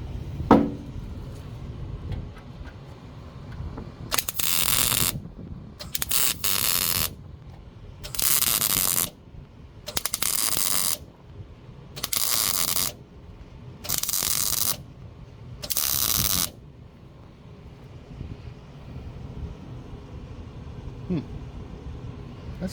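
A welding clamp ratchets onto a car body panel during bodywork on a 1948 Ford or 1954 Willys, in seven loud bursts of rapid clicking separated by short pauses, against a quiet shop background.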